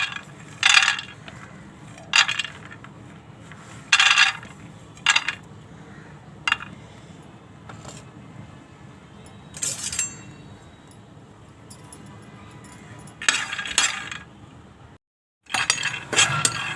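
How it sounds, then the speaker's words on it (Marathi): Peanuts rattle and scrape in a hot metal wok over a low flame, with periodic bursts of clinking as they are stirred, over a low steady hum. "इथे मी कढई गरम करायला ठेवली, त्यामध्ये शेंगदाणे भाजून घेते।"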